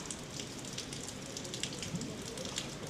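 Steady rain falling outdoors, a faint continuous hiss with scattered soft drop patter, heard alone at low level.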